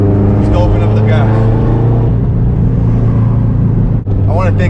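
A straight-piped 2004 Subaru WRX STI accelerating, a loud, raw engine drone held steady from close inside the car, with a short dip near the end before it picks up again.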